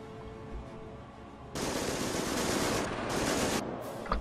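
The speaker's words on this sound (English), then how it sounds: "Oh, there's some firing going on somewhere." Gunfire in the World War II strategy game Company of Heroes with the Blitzkrieg mod starts after a quiet moment as dense, sustained machine-gun bursts, loud and continuous with brief dips, and no voices.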